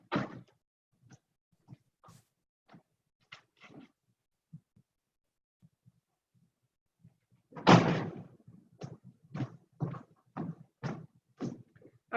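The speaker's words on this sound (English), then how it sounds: "I think I'm gonna go shut my door because I forgot to." An interior door being shut, with scattered faint clicks and knocks of someone moving, then a sharp close thud followed by a run of quieter rattles and taps nearby.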